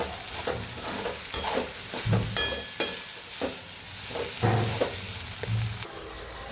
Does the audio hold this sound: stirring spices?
yes